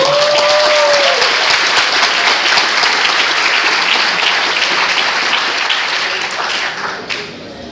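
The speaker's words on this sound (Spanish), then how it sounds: "Y regalen un aplauso por estar aquí esta tarde del vuelo." An audience at a Spanish-language talk claps in loud, dense applause that holds steady and then fades out near the end.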